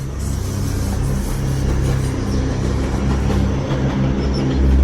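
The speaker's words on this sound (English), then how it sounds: "we got to see another Up Express train go by." A UP Express airport train between Union Station and Pearson Airport in Toronto rumbles steadily past at close range, a continuous low droning roar with rhythmic clatter that swells slightly toward the end.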